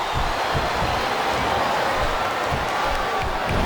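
A wrestling arena crowd in WWE SmackDown vs Raw 2008 roars in a dense, continuous wash of cheering, loud and sustained, with no clear talk on top.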